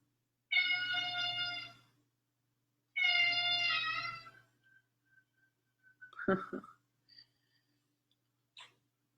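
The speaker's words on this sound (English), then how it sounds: "Can you hear my cat?" Two drawn-out cat meows close by, followed by a few soft rustles and small clicks in a quiet room.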